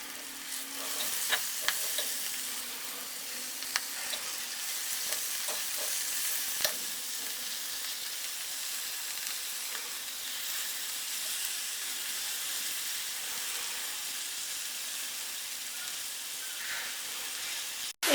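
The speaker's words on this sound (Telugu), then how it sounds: "ఈ ఆకుల్ని కొద్దిసేపు ఆయిల్లో ఫ్రై చేసుకోవాలి." Fenugreek leaves frying in oil for a tomato curry, a steady soft sizzle with occasional crackles and stirring scrapes, close and continuous without talk.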